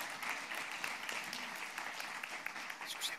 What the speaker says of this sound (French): Applaudissements très mérités